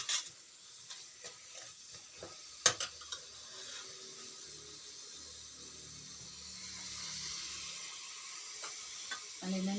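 Masala mixture frying and being stirred in a pan for peas potato kurma, a soft steady sizzle with occasional spoon scrapes and clicks against the pan, fairly quiet throughout.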